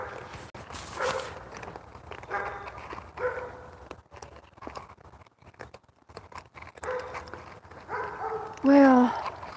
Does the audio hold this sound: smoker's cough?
no